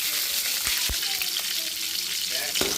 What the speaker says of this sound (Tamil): கடுகு போட்டுக்கலாம் சின்ன வெங்காயம் போட்டுக்கலாம்